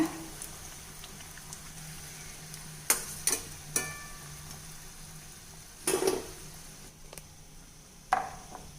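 Paneer pakora fritters deep frying in hot oil give a steady low sizzle, broken by a few sharp clinks and scrapes of a utensil turning them in the pan.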